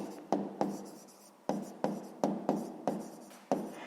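Pen writing on paper during a sixth-grade maths exercise: a series of short, crisp scratchy strokes in a quiet room, each stroke sharply starting and fading, spaced irregularly about half a second apart.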